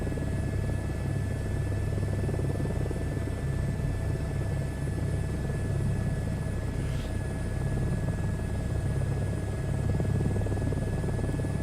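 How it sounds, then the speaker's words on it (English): A steady, continuous whine and rumble from an H225 helicopter's engine and rotors in Microsoft Flight Simulator 2024 holds at an even level throughout, close and unbroken, with no talking. "Let's get a H225 and see what's going on with it."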